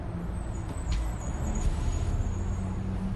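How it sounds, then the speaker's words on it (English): A bus with faulty brakes squealing, a thin high whine over a loud low engine and traffic rumble outdoors. "And a bus with some fucked up brakes."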